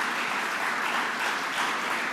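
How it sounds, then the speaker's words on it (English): An audience at a public remarks event on a transit worker assault bill claps in a steady, even burst of applause lasting about two seconds, close and fairly loud, with no talking. "Let's give them all a round of applause."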